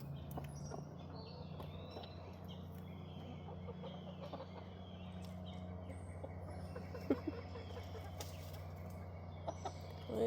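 A chicken clucks softly and intermittently in a sunny yard among other backyard hens, the calls sitting under a steady low hum.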